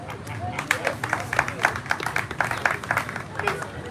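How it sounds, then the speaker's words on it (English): Scattered hand claps ring out from an audience, a loose, uneven run of sharp claps with murmuring voices underneath. "Please give a big round of applause to Ras Bisali."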